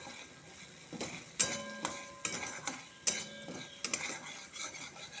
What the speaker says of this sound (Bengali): এই চালটা দিয়ে ভালো করে চাল টমেটো নাড়বো।